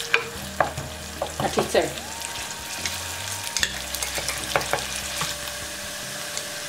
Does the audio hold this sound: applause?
no